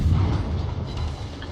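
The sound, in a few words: ship guns firing in a naval video game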